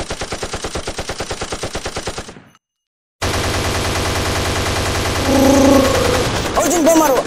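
Automatic gunfire in an Indian Army versus Pakistan independence-day battle scene: a fast, steady rattle of loud shots, a brief silence, then a dense, continuous roar of fire with voices rising over it.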